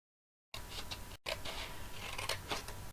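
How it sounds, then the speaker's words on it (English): White cardstock being trimmed with scissors at a card-making craft table: a few crisp, close snips and paper rustles in quick succession, with no voices. "Just trim this off."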